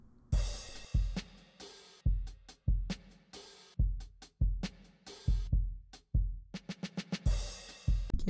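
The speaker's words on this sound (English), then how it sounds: "Then we got drums to complement the sample." Hip hop drums with a pitched-down sample, punchy kicks and crisp snares and hats in a steady groove with a quick roll near the end, played alone without talk.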